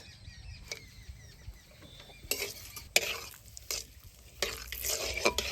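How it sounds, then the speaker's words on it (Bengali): Cinnamon and cardamom sizzle in hot mustard oil in a pan, with bursts of crackling frying and the scrape of a stirring spoon in irregular close surges. "এবার দিয়ে দিব হচ্ছে সরিষার তেল ফোড়নে দিব দারচিনি আর এলাচ"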